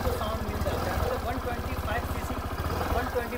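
A 2024 Suzuki Avenis 125 scooter's 125 cc engine idles with a steady low chugging throb while someone talks over it.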